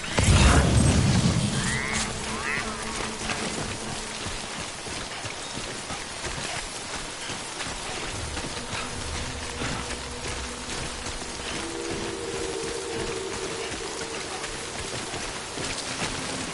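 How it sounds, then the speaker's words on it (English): Steady rain falls in the video game Death Stranding, a constant close patter across the whole stretch, opening with a brief low boom and faint tonal sounds underneath. "Good thing it was raining."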